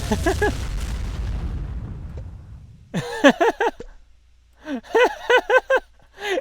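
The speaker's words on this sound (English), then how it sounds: "I'm going to throw a pipe bomb right at his bathroom." A pipe bomb bursts in the video game Survivalist: Invisible Strain, one heavy boom that rumbles and fades over a couple of seconds, followed by short bursts of voices.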